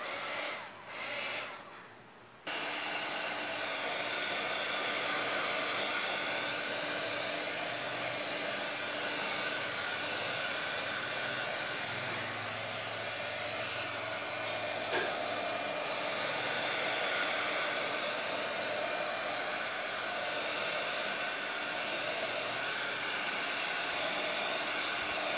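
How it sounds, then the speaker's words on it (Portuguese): A small electric blower switches on after a brief pause and runs as a steady, even whoosh for the rest of the time while drying PVA paint on a board. No voices are heard. "Eu uso esse sopradorzinho aqui."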